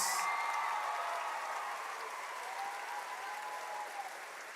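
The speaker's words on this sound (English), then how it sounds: "Give them all a big round of applause." Audience applause at a fourth grade elementary school choral festival, a steady wash of many hands clapping at fairly even loudness, gradually thinning toward the end.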